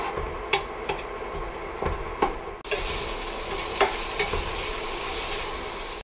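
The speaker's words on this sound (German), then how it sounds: "Dann geben wir dazu unser Hackfleisch. Das tun wir jetzt einfach erstmal anbraten." Minced meat sizzles in a hot pan, the frying jumping louder partway through, with a few sharp clicks of a utensil scraping and stirring.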